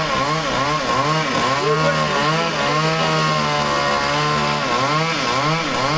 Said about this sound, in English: Chainsaw machines busy cutting through branches of trees hanging out into the road.